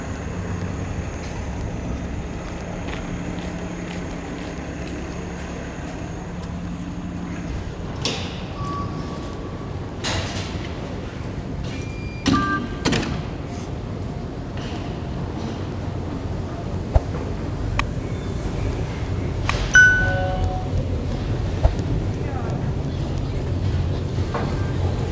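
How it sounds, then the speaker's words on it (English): Westbound subway train at Victoria Park Station in Toronto, heard as a steady low rumble through a busy platform, with a door chime, scattered clanks and a few sharp beeps or squeals in the second half. "I'll catch a westbound train over to Bloor Station"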